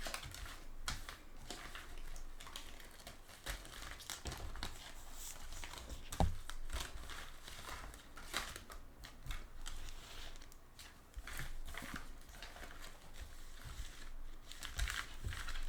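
Tarot cards being shuffled close by, with quiet rapid clicking and riffling that continues in uneven bursts, with no talking.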